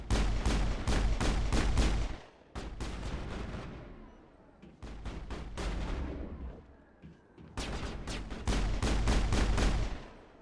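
Rapid bursts of automatic gunfire in the sci-fi shooter Mass Effect, loud and close, coming in several sustained volleys separated by short pauses.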